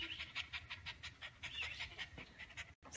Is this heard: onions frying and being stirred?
no